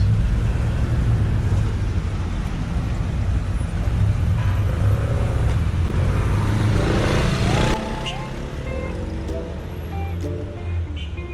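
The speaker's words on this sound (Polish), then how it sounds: "Przyjechał właśnie samochód SEBIN, czyli boliwariańskich służb wywiadowczych." A Venezuelan SEBIN intelligence service car pulls up at a petrol station. A steady engine and traffic rumble runs throughout, with faint background voices, then eases and drops a little in level near the end as the vehicle settles.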